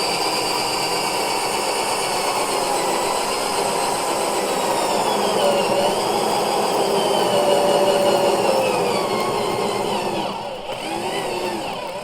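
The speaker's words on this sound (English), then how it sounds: "now I'm going to finish drilling that hole through. This is a 1-inch drill bit." A 1-inch circular hole-saw bit cuts a hole during a kitchen faucet install, a steady, loud whirring motor drone with a shifting pitch that lasts throughout and dips briefly near the end.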